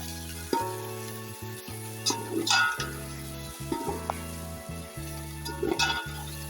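Spices being stirred into a sizzling pan for chicken pulao, a steady frying hiss with scraping spoon strokes and occasional clinks against the metal, close and fairly quiet.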